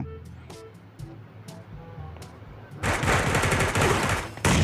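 Rapid automatic gunfire bursts out loud and dense in the shooting game Sausage Man, following a few sparse isolated shots, with almost no talk over it.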